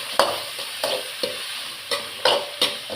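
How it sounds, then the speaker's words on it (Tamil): Sautéing in a pan of oil left over from frying cauliflower: a steady sizzle broken by about seven sharp, rhythmic spatula scrapes, close and with no voices. "வதக்கிக்கிறேன்."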